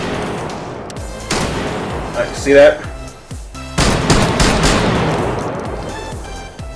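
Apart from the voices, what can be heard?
shotgun firing in video game H3VR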